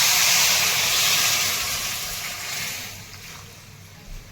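Hot water poured into sautéed ridge gourd in a pan sets off a loud, steady steam hiss that slowly fades over a few seconds.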